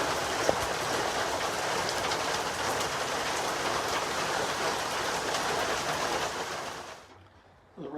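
Rain from a small pop-up storm falling steadily on a shelter along a coastal forest hiking trail, a dense even hiss of drops that fades out abruptly near the end.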